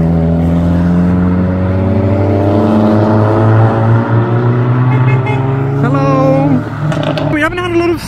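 A boosted Ford Sierra Sapphire Cosworth pulls away from a car show, its loud engine droning and rising through the gears close by, with crowd chatter running underneath.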